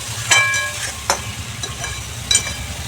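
Bata fish curry with ridge gourd and potato simmers under a lid over low heat, giving a soft steady sizzle broken by three sharp metallic clinks.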